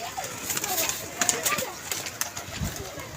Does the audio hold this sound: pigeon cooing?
yes